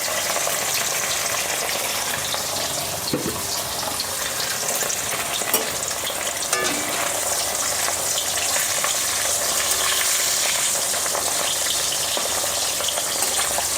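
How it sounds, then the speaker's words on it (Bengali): Fish pieces frying two at a time in hot oil for a Bengali potoler dorma, a steady loud sizzle filling the whole stretch with occasional spatter pops and no talk. "তেলটা আমার গরম হয়ে গেছে, মাছটা দিয়ে দেব। দুটো দুটো করে ভাজবো।"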